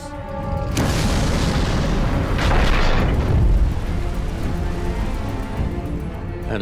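A large detonation erupts beneath a tank, blowing its seven-tonne turret into the air: a sharp onset swells into a deep, rolling boom that rumbles and slowly fades over several seconds, with no voices.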